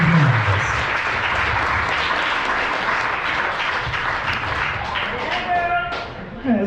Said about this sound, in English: let's have a big round of applause for Andrew and Elizabeth and Mr. and Mrs.